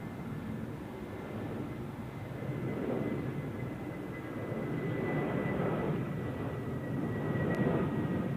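An older Airbus A320 airliner rumbles in flight at Zurich Airport, a broad steady engine roar that swells slightly as it passes at moderate distance.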